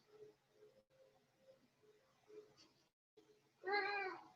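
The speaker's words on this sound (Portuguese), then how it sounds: "Dá para ouvir meu gato daí?" A pet cat meows loudly once near the end, a sudden bright cry after a stretch of quiet talk at home during a live stream.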